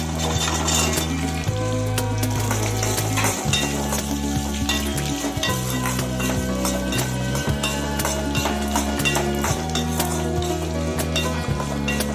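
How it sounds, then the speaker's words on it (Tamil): Onions being sautéed in a pan for a coriander-leaf chutney made without tomato or coconut, a steady close sizzle with stirring scrapes throughout. "வெங்காயத்தையும் சேர்த்து நல்லா வதக்கிக்கிங்க"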